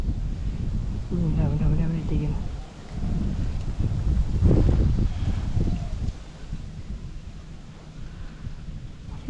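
Wind gusts outdoors during a spearfishing trip for fish, heard as a continuous low rumbling buffet against the microphone that eases slightly near the end, with people talking over it.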